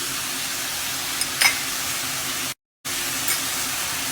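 Garlic goes into a hot pan of spiced chicken for tortillas and sizzles loudly and steadily, with a few scraping stirs, then a brief cut to silence before the frying hiss resumes.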